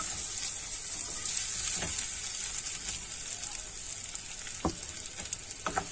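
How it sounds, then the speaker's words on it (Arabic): Washed, dried rice being stirred and toasted in a hot pan with liver and gizzards for stuffed pigeon, a steady hissing sizzle with a few soft scraping stirs near the end. "فانا هقلب شويه الرز معاهم لحد ما يتشمع كويس من كل ناحيه"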